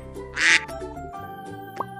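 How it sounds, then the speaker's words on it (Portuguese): A duck quacks loudly and close by, a single bright call surrounded by a bed of tonal music with a faint second note near the end. "E esse aqui é o pato. Pato em inglês se diz duck."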